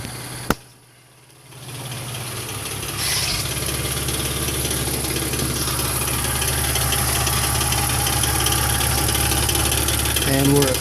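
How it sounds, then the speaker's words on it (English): Idling 2001 BMW E46 with a rattle blamed on failing catalytic converters: a sharp click and brief quiet, then the engine settles into a steady, loud, buzzing idle with a continuous metallic vibration, heard up close. "2001 E46, got a rattling noise. Sounds like it's the cats that are basically going out"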